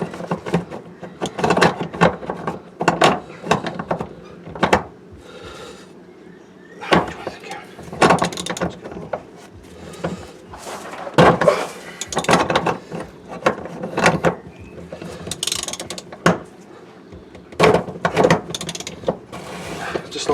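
Spanner turning the fuel pump locking ring on a Land Rover Discovery TD5: a series of close, sharp metallic clicks and knocks, irregular and bunched, loud with no talk.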